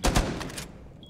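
Gunfire in Rainbow Six Siege, a quick burst of two or three sharp shots followed by a fading tail, loud and close.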